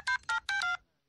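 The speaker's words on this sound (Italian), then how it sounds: "Chiamo subito Mahmood da questo cellulare che mi ha dato" A mobile phone keypad sounds three short dialing tones in quick succession, the last held slightly longer, clear and close, followed by silence.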